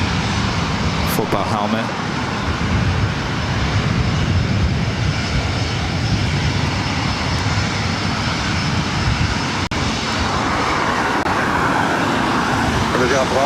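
A jet in Los Angeles Chargers livery roars on takeoff at LAX, a loud, steady broadband engine rumble that fills the whole stretch, with a voice briefly speaking over it.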